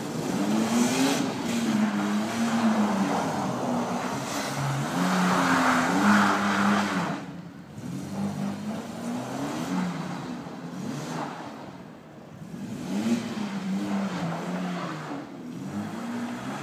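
A Mitsubishi Pajero Evo drives fast through snow, its engine droning and revving in waves with tyre and snow noise, fairly close throughout.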